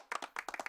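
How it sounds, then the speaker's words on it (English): Hands clapping in a quick, close, quiet burst of about seven claps in an uneven rhythm. "I think it heard the clapping."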